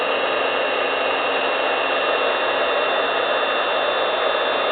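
A heat gun blows a constant, loud, airy roar while embossing a faux tin ceiling panel, running steadily throughout with no talk.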